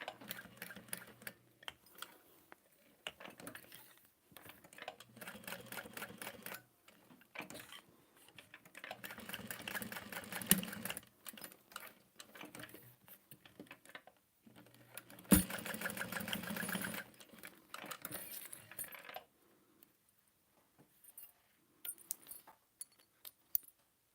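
Sewing machine stitching a bag strap with Tex 80 thread, heard as bursts of rapid mechanical clatter in stop-start runs of several seconds, separated by short pauses and a couple of sharp clicks.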